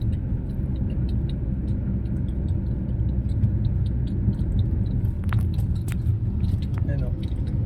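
Truck engine rumbling steadily as the vehicle creeps slowly along a road, a constant low drone throughout with people talking over it.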